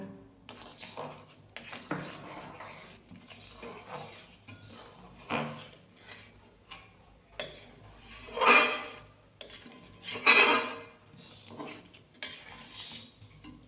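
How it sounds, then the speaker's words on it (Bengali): Gobindobhog rice flour is stirred in a pan with a spatula, a series of uneven scraping and clinking strokes with soft pauses between them, close and moderately loud, with no talking. "এই গোবিন্দভোগ চালের গুঁড়োগুলো অল্প অল্প করে এভাবে ছিটিয়ে ছিটিয়ে দেব আর খুন্তি দিয়ে নাড়ব"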